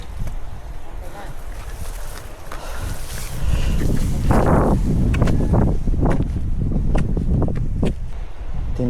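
Wind buffets a microphone on a bitter gourd farm, making a loud, rough, gusting roar that strengthens midway, while a person talks underneath.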